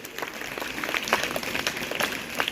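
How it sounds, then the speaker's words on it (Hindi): A crowd at an awards ceremony claps briefly and loosely, dense applause of moderate volume with scattered individual claps, heard alone for a couple of seconds. "जोरदार तालियां।"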